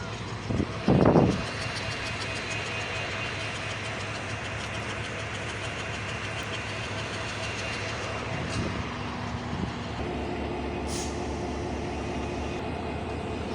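The 798 Kurigram Express, an intercity train bound for Dhaka hauled long hood forward by locomotive 3002, rumbles steadily near Parbatipur Junction. A loud burst comes early, and faint tones sound later.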